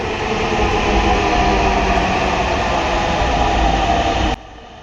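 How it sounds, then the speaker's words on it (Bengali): A metro train rumbles loudly and steadily past at close range as it arrives at a station, a broad continuous roar that cuts off abruptly near the end. "কখন দেখতে পাবো সেই মেট্রোলকে বলতে না বলতে চলে এসেছে"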